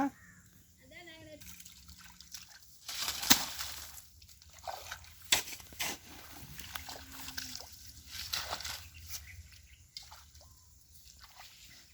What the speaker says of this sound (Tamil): தண்ணி மோந்து ஊற்றுனா திரும்ப ஊறிக்கிடும்